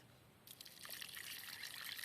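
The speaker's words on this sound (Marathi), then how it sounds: "त्यामध्ये आम्ही थोडंसं पाणी टाकणार आहोत" A thin stream of liquid starts after a brief pause and keeps pouring steadily, close by and fairly quiet.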